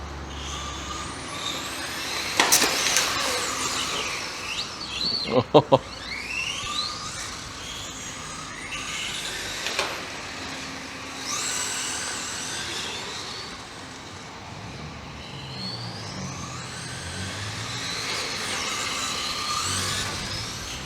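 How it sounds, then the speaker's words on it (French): A Traxxas Ford Mustang GT 4-Tec 1/10 4x4 RC car on VXL-3s power accelerates and slides, its electric motor whining in rising and falling sweeps, with a few sharp knocks from the bouncing body, heard from a moderate distance. "j'ai mis un coup de gaz, elle est partie en glisse"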